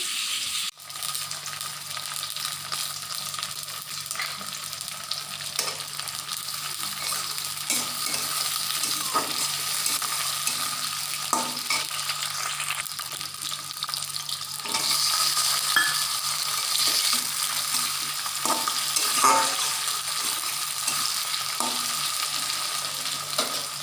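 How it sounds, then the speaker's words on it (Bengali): Potatoes for chicken curry frying in a pan, a steady crackling sizzle with intermittent stirring scrapes, close and continuous, growing slightly louder midway, no talking. "এখানে চিকেনের আলুটা ভেজে নেব"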